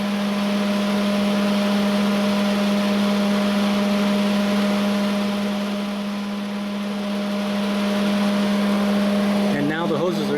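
A Honda Pilot idles with its air conditioning running, giving a loud, constant low engine hum with a steady droning tone, briefly rising and then settling, until a rustling shift at the end.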